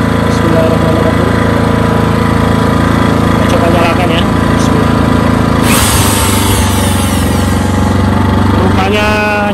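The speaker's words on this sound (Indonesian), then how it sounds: "Rupanya gensetnya langsung suara gensetnya langsung drop ya, tarikan pertamanya." A Hyundai HDG 2880 petrol generator runs steadily and loudly, its engine note dipping as an electric drill is switched on as a load and whines briefly; a person speaks over the continuous engine noise.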